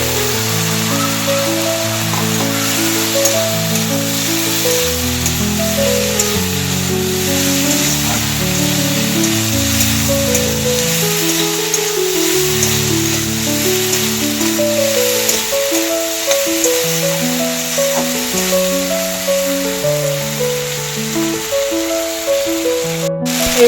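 Soya chunks frying in sauce in a hot pan, a steady close sizzle and crackle that holds through the whole stretch, alone and without talk.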